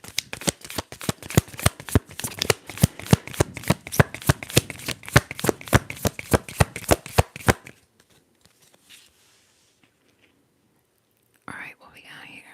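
Tarot cards shuffled and riffled in a steady rapid flurry of close, crisp paper flicks for several seconds, then quiet with faint soft handling and a brief rustle at the end.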